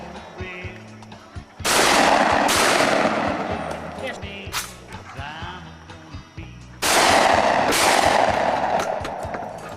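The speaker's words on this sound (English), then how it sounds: "Let him shoot. Let him shoot two more." Gunshots ring out during outdoor shooting practice: three loud, sharp reports with echoing tails, spaced a few seconds apart, with quieter voices and background movement between them.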